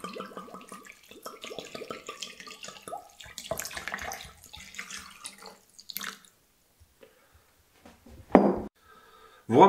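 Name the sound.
cold water poured onto salt cod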